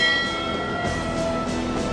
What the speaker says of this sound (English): They ring a warning bell 3 times and message the bridge